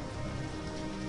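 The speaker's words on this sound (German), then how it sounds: "dann ist der Regen so laut im Hintergrund" Steady rain falling in the Minecraft video game, a dense continuous patter that fills the background evenly and stays loud throughout with no voices over it.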